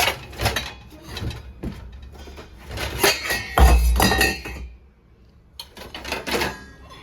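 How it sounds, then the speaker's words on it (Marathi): Glass and steel dishes are unloaded from a dishwasher, producing clustered clinks, clatters and knocks of plates and utensils in irregular bursts, close by, with a short quiet pause before a final flurry. "काय सुंदर भांडे निघतात ना डिशवॉशरमध्ये, खूपच छान निघतात"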